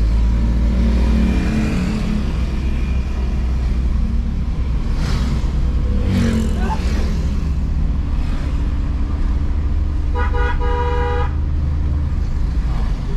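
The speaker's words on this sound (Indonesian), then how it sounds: "Ya macet mobil motornya itu." Busy road traffic jam near a roundabout in Ambon, with cars and motorbikes idling and revving, a horn tooting repeatedly around the tenth second, and steady engine rumble throughout.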